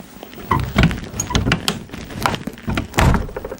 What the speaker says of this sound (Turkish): Kapıyı açtım.